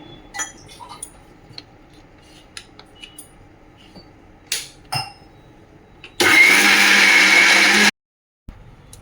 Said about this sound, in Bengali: তো মিক্সির মধ্যে এটাকে একটু অল্প জল দিয়ে মিক্সিতে ঘুরিয়ে নিচ্ছি।